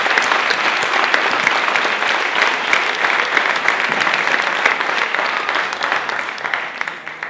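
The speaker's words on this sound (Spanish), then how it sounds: "Así que un aplauso para ellos, por favor." A crowd at the 2019 Aragonese social work awards ceremony breaks into sustained, dense applause that stays loud and even for several seconds before easing slightly at the end, with no talking over it.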